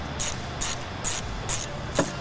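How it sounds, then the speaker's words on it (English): A ratcheting tool removes screws from the stock scoop bracket on a Ram 1500 TRX V8, giving five evenly spaced, sharp clicking bursts close to the microphone. "Remove the stock scoop bracket by removing these two screws."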